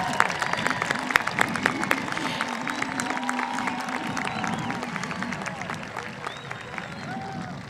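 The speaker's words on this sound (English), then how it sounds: "Oh, yes, round of applause." A high school graduation crowd claps and cheers continuously, a dense wash of applause with scattered whoops filling the hall at a steady, moderately loud level.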